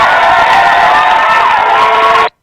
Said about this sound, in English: Those hand claps are for you.